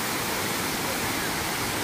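Water rushes over Padale Dam in a dense, continuous roar, loud and close with no break.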